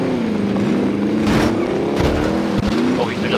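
A vehicle is driven hard in Warzone, its engine a steady, loud droning hum that shifts pitch as it speeds up, with brief thumps and bumps from rough ground along the way.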